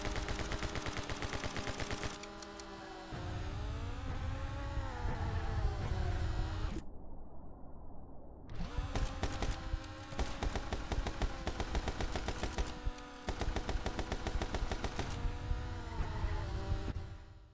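Gunfire in the video game My Friend Pedro: rapid bursts of automatic shots with a brief quiet break midway, then resuming as dense, loud repeated firing over game music.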